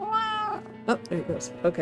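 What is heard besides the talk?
cat meowing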